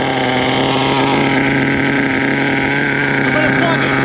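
A nitro-engined HPI Savage RC truck with a throttle glitch and a scratched sleeve runs at a steady, loud, buzzing drone, the pitch wavering slightly while it keeps idling high.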